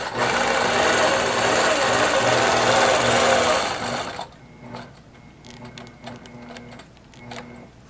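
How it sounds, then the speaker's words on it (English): Sewing machine stitching fabric for a quilted rope-style project, loud and continuous for about four seconds, then stopping and giving way to quieter handling and a few short mechanical clicks. "I'm going to stitch from A down to B."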